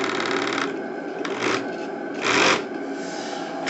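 A live steam model engine, just repaired at its gas regulator, runs with a steady close mechanical chatter and hiss that swells in short surges, with no speech over it.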